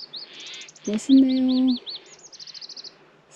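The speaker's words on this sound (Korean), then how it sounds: "새소리." Small birds chirp and trill on the Gyebangsan mountain trail in Gangwon, Pyeongchang, with quick repeated high notes around a brief spoken remark from a hiker.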